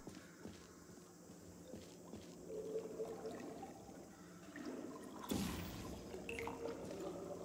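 A water splat in the Portal 2 video game: a sudden wet splash lands about two-thirds through over a quiet watery ambience with faint drips, and no one speaks.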